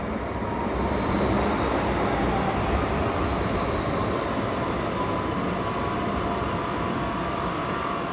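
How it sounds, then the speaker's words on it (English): A Sydney tram runs along its rails with a loud, steady rumble and rolling wheel noise, plus a faint high whine, continuous throughout and close by, with no voices. "the tram's coming, which is going to take us to Central"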